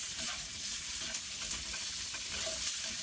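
Chopped onions and tomatoes frying in vegetable oil for a Bengali chicken curry, giving a steady close hiss of sizzling with faint scraping as the pan is stirred.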